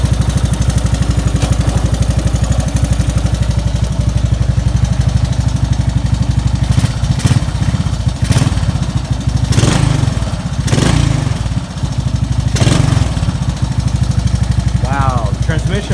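A 1984 Honda ATC 200S three-wheeler engine runs loud and close in a rapid steady thump, with several sharp clunks and revs as it is put in gear; someone talks over it.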